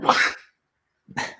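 A single sharp sneeze bursts out close to the mic on a Liverpool football podcast, followed by a short silence and then another brief, breathy burst.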